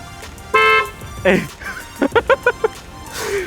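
A Tesla's horn, triggered from a remote phone app, sounds a steady honk, then several quick short beeps follow in a burst, with people talking nearby.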